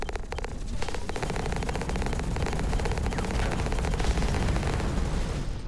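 Gunfire in the mech combat video game Hawken, a dense, continuous rapid-fire barrage of loud, close automatic shots with crackling bursts and no talking.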